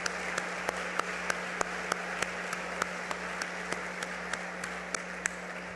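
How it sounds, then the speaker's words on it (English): Light, steady clapping from a crowd at a college pep rally for Coe, fairly soft and even, with a faint low hum beneath and a few sharper claps standing out at regular intervals. "I need to join you in applauding these people."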